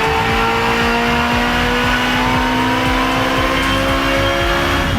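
An Aston Martin engine with an open exhaust runs on a dyno, a loud sustained roar with steadily rising revs and a rapid rhythmic pulsing exhaust note throughout.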